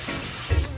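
Tap water runs steadily into a hotel bathroom sink during face washing, a close, continuous splash that briefly swells louder and sloshes midway through.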